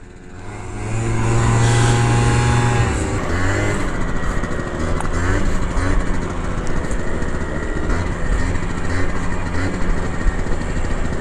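A motor scooter engine revs loudly nearby as Chuck rides a wheelie along a desert trail, holding a steady droning note with a brief low tone early on and slight rises in pitch.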